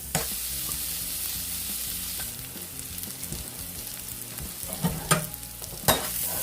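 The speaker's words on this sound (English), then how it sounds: "I love onions in my fried rice. Just let that sweat down a little bit." Onions sweat in a hot pan for fried rice, with a steady sizzle and a few louder stirring scrapes and clatters near the end.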